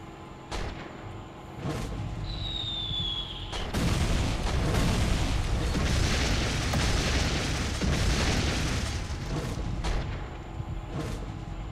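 Bombs dropped on a train explode in the Wings Remastered flight game, a heavy boom followed by a long rumbling roar of blasts over a droning aircraft engine, with a brief whistle before the impact and fading rumble afterward.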